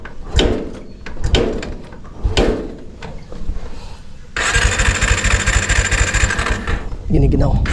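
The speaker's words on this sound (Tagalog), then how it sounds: "Painitin ko muna ng konti itong aking motor" A motorcycle engine cranks in several short bursts, then catches and runs with a steady, rough rumble before a final revving surge; voices are heard briefly.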